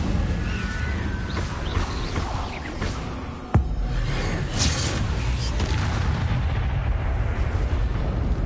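Incendio fire spell cast in a video game, a dense roaring burst of magical flame with a sharp crack partway through, close and loud against continuous noisy background.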